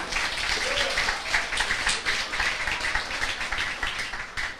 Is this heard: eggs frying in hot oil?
no